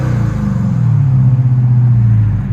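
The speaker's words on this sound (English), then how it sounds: "Again, Hellcat. Sounds so good." A supercharged 6.2L HEMI V8 in a Dodge Charger Hellcat revs up in a deep, loud, close rumble that rises and holds, then eases off, with no talking.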